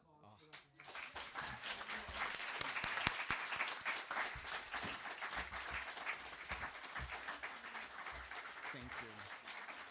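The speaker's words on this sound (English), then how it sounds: "going to get one more round of applause" Audience applause after a public poetry reading, steady dense clapping that starts abruptly and holds through the whole stretch, with a few voices mixed in.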